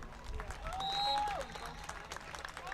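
Audience applause for a senior track athlete at a high school meet, faint scattered clapping heard at a distance, with a tonal whistle or horn briefly sounding over it.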